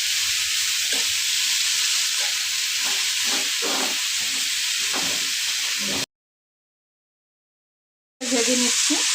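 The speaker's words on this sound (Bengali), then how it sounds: "ভেজে নিচ্ছি।" Dried fish and potatoes fry in a pan with a steady, close sizzle and occasional stirring scrapes, cutting to silence for about two seconds before the hiss returns.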